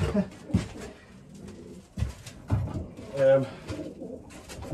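Pigeons coo inside a pigeon loft during cleaning, with a few soft, low throaty calls rising and falling over scattered handling noises and light rustling.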